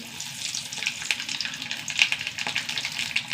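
Mustard seeds and two dried red chillies frying in hot oil, sizzling and crackling steadily with quick, irregular pops throughout, close and fairly loud, with no talking.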